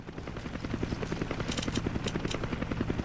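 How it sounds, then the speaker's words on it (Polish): Rhythmic helicopter rotor chopping in the video game Resident Evil 5, steady and fairly loud, with bursts of gunfire cracking over it midway. "Helikopterki."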